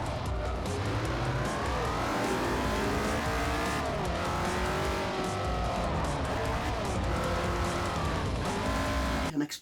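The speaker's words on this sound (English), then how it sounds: "Racing at high speed." Race cars in an Xbox 360 racing game roar at high speed, their engines loud and continuous with rising and falling revs and occasional tire squeal, dense and sustained throughout.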